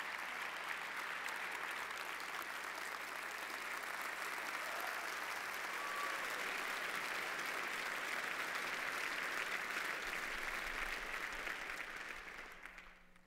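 A TEDMED 2012 audience claps to welcome Sam: steady, dense applause that holds for over ten seconds before tapering off.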